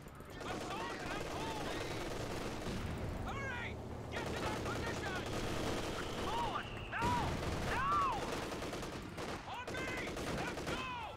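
Sustained machine-gun fire in Company of Heroes during a 4v4 battle, rattling bursts alongside distant booms and battle noise, steady and busy throughout with no voice over it.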